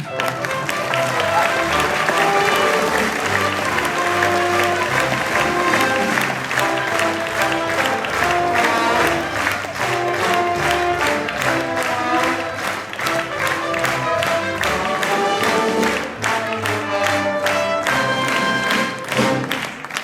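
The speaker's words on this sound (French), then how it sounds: "On applaudit Monsieur Bernard Abrami, le chef d'orchestre." An audience in a concert hall gives sustained applause for an orchestra conductor, a dense, continuous clatter of many hands that stays steady and loud for the whole stretch, with faint voices mixed in.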